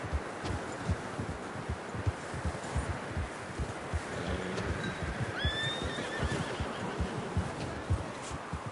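A horse in Red Dead Redemption 2 clip-clops with steady, heavy hoofbeats and lets out a short whinny midway, close and clear over rustling ground.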